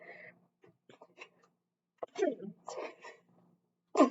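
A single sharp sneeze near the middle, fairly close and moderately loud, between soft murmured speech and breathy vocal sounds.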